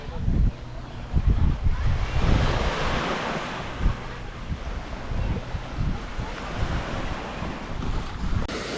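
Shallow ocean waves washing onto Bharatpur Beach on Neil Island in the Andamans, a steady broadband surf roar with wind buffeting the microphone and rolling wave surges, close and loud.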